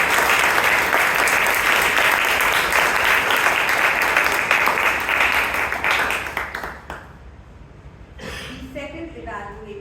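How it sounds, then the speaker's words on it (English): Applause at a Toastmasters club meeting fills the room, a dense clapping crowd that swells loud, then fades out near the end before a voice briefly speaks. "Let's give the evaluator and the speaker a huge round of applause."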